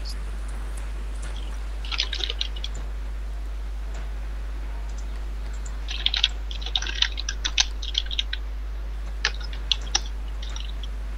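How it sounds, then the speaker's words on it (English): Keys clatter on a computer keyboard in scattered bursts of quick, light clicks, faint and close over a constant low hum. "Who's typing so much?"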